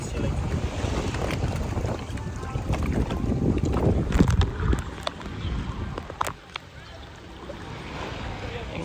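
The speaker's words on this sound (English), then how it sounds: "We're going kayaking." Kayaking on water in St. Lucia, with paddling and water sloshing under heavy wind buffeting on the microphone, loud and close, with people talking at moments.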